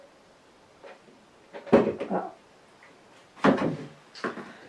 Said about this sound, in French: Alors attendez, j'ouvre la porte ici.